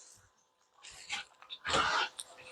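A dog breathes and whimpers faintly nearby, with soft snuffles and a few brief whiny bursts in a quiet room.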